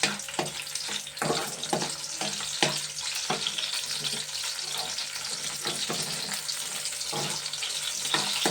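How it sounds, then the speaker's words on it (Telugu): Garlic fries in hot oil with a dense, continuous sizzle and crackle, up close and fairly loud, with occasional stirring scrapes. "నూనె కాగుతుంది, ఎల్లుల్లిపాయలు వేస్తున్నాను"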